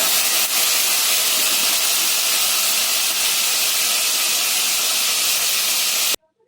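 Food fries in hot oil in a pan, a dense, steady sizzle and spatter that stays loud and close without a break, then stops abruptly at the end.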